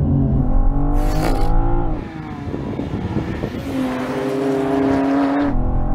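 BMW M4 cars, new and old, launching off the line in a drag race, a loud engine roar that drops briefly as a gear changes and then climbs steadily again.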